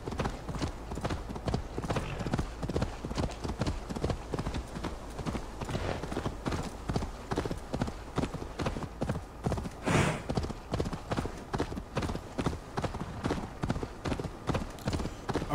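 Several horses walking in Assassin's Creed Valhalla, a continuous patter of hoof clip-clops at a brisk rhythm, moderately loud, with a brief neigh partway through.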